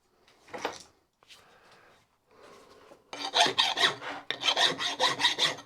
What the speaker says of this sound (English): but the file's marking it, so it's not ridiculously hard